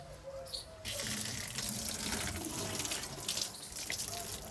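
Water splashes and pours steadily, starting after a short pause and running loud and close for several seconds.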